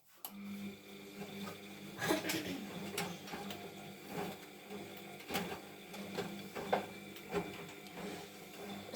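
Siemens washing machine on a silk 30°C program with 600 rpm spin, not yet heating, churns with a steady low hum and irregular clunks and knocks of the drum turning, close and fairly quiet.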